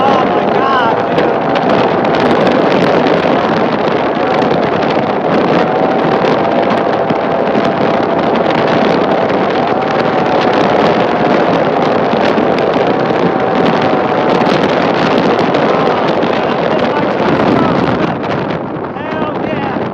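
Small 70cc Polini Corsa two-stroke engine on a Vento Triton R4 bike revving hard and continuously for the whole stretch, a loud, steady buzzing drone with wind rush over the microphone, fading slightly near the end.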